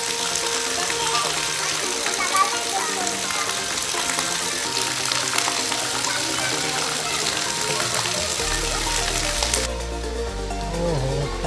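Heavy monsoon rain pours down without letup, a dense, loud hiss of falling water that carries on throughout, with some low tones and a sudden shift in the sound near the end.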